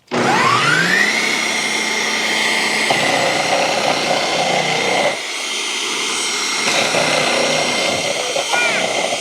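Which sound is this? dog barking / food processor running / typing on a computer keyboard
food processor running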